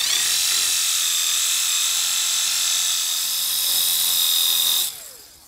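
A rotary polisher whirs steadily while buffing a BMW G80 M3, a loud high-pitched spinning whine that holds for several seconds, then dips in pitch and cuts off near the end.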